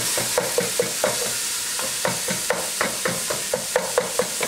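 Ground beef sautéing in olive oil, a steady sizzle broken by repeated sharp scrapes and taps of a spoon stirring the meat in the pan, close and fairly loud.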